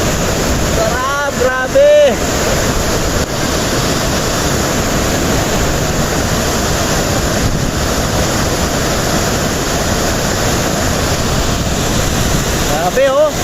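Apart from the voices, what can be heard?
waterfall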